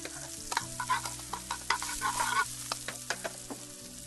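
Vegetables sauté in a hot pan with salt, pepper and chopped garlic, giving a steady close sizzle broken by scraping stirs and light utensil clicks, with no one talking.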